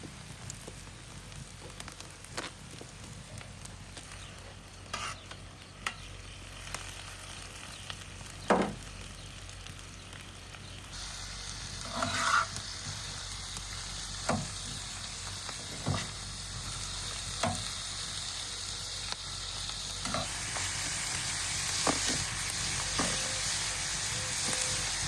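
Lamb giblets, salted and peppered, stew in a covered pot, giving a steady soft sizzle and bubbling hiss with occasional faint pops and ticks, continuous and fairly quiet throughout.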